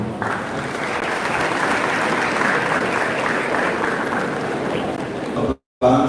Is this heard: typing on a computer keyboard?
no